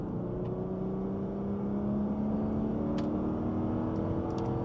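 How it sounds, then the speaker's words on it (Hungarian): A Subaru SVX boxer engine, paired with a four-speed automatic gearbox, pulls steadily under acceleration from inside the cabin with a smooth, rising drone and faint mechanical whir, loud and continuous with no talk. "Van itt boxer hang."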